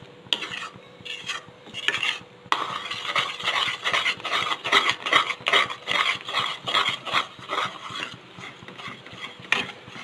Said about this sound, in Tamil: இப்போ நம்ம ஹை ஃப்ளேமில் வச்சுட்டு நம்ம இதை கலரி விட்டுக்கிட்டே இருக்கணும்